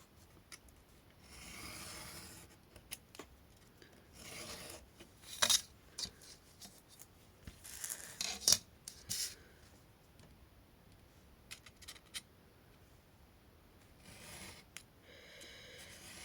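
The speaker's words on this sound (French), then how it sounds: "Je peux couper avec la règle là, ça ne coupe pas très droit." Paper card being cut along a ruler on a craft table, with soft scraping strokes and scattered clicks and taps, faint and close, with no talking.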